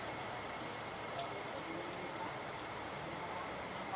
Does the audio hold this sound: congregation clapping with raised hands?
no